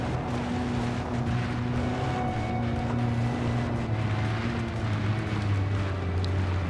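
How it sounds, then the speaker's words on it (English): A rally car engine in a video game strains up a hill with a low, steady droning rumble. The sound stays fairly quiet and constant throughout, with a faint wind-like hiss. "is the engine dying? Can it not make it up this very not extremely steep hill?"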